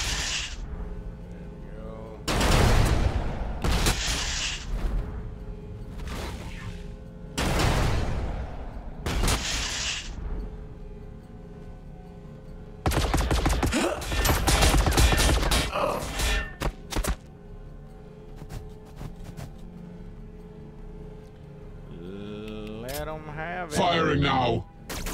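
Gunfire and missile launches from T'au Empire units in the Warhammer 40K: Battlesector strategy game come in several loud, booming bursts separated by quieter gaps, with a brief voice in between.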